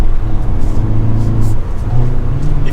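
A 2022 Hyundai Veloster N with a six-speed manual gearbox revs its engine, a close, loud, steady throaty drone with a pitch that shifts slightly as the revs rise and settle.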